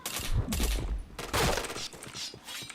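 Rapid bursts of gunfire from a first-person shooter video game, several loud volleys separated by short pauses, with no talking.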